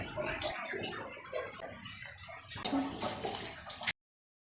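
A cup of water is poured into a pan of chilli chicken sauce made with soy and chilli sauces. Soft kitchen rustling comes first, then a short, brighter splash and gurgle before the sound cuts off.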